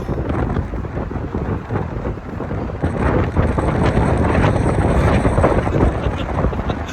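Strong wind buffets the microphone outdoors on a city tour near the Brooklyn Bridge, a loud continuous rumbling roar that grows stronger partway through.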